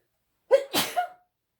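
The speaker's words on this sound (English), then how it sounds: "I'm going to sneeze." A single sharp human sneeze with a short indrawn breath before the burst, close and alone in an otherwise quiet room.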